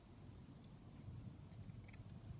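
Scissors trimming lace for a craft journal, a soft run of snipping and rustling that grows slightly busier toward the end and finishes with a sharp close cut.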